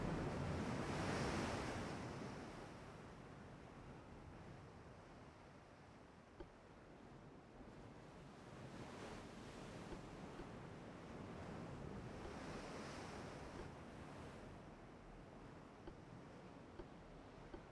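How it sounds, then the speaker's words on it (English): Sea waves in a naval warfare video game set in 1921 rise and fall in broad whooshing surges, a continuous rushing wash with wind-like hiss and occasional faint clicks, no voices. "Sea waves."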